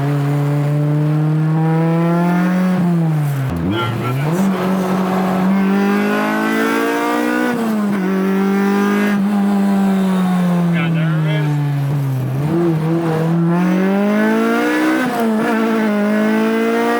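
A K24-swapped Honda Civic engine with a modified exhaust revs hard again and again, its pitch climbing and falling in sweeping waves through VTEC, loud and close throughout.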